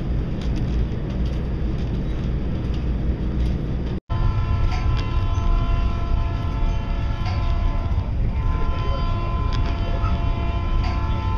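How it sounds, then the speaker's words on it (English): Steady rumbling train noise with rhythmic rattling and a constant hum, continuous throughout apart from a brief dropout, heard from inside a carriage. "Doing a little train traveling today."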